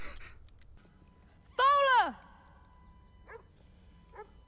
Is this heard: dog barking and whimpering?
yes